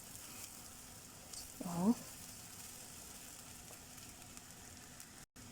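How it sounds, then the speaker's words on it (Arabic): Boiling water poured onto white rice in a pot on the stove, a brief loud hiss and sizzle lasting under a second over faint kitchen background, with a short spoken word nearby. "هننزل بقى بالمية المغلية عليه على الرز بتاعي"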